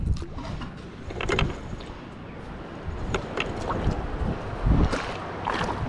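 Kayak paddle strokes splashing and dipping in water, a few irregular nearby swishes over steady wind noise on the microphone, with no talking.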